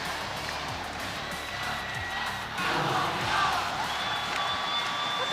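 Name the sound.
Apalit supporters cheering at basketball game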